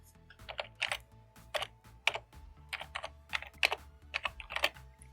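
Rapid, close keystrokes on a computer keyboard as a web mail address is typed into a browser's address bar, irregular clusters of crisp clicks over a faint steady hum, with no talking.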